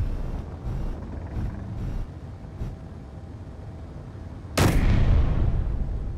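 Guns firing back in a video game: several booming shots spaced over the first seconds, then one loud, sharp blast followed by a rumbling tail, with no voices.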